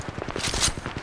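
Rapid automatic fire from an R-301 Carbine in Apex Legends Mobile, a quick string of evenly spaced shots crackling in a brief, loud burst.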